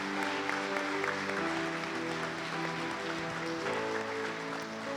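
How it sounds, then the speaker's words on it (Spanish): A church congregation applauds steadily for several seconds while sustained music plays underneath, filling the room evenly. "¿Le podemos dar un aplauso a Jesús?"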